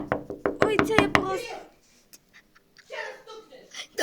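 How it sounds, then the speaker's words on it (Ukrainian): A rapid burst of sharp knocks, about seven close raps in a second, followed by quieter scattered taps and rustling, with people talking nearby. "Постукай, постукай."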